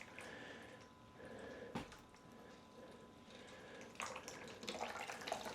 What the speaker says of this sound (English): Pour the water in, that is.